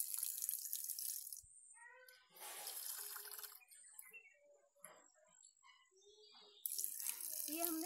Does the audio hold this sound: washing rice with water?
yes